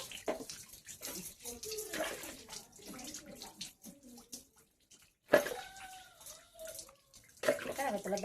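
Warm water is poured over a pregnant cat during its bath, splashing into a tub in bursts with gaps between pours, while a person talks softly nearby.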